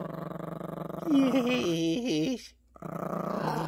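A Yorkie puppy playing tug-of-war gives a close, rising and wavering growl lasting about a second, then a brief pause, while someone talks over the steady play.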